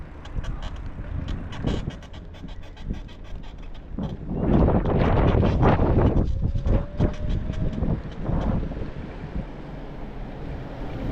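Strong wind buffets the microphone while riding an e-bike on a spring-day road, a constant low rumble that swells into heavy gusts midway, loud and close, with no talking.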